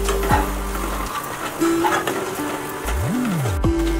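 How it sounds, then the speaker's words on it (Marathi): Spices such as turmeric and Kashmiri chili are stirred in a hot pan for pav bhaji, giving a steady sizzle with scraping strokes of a spoon against the pan, close and fairly loud, without any talk. "आता हे छान मिक्स करून घ्यायचं आहे"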